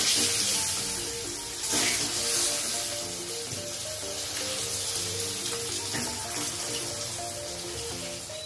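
An egg frying in ghee with salt and turmeric gives a steady hiss and sizzle throughout, alongside a faint clatter of utensils.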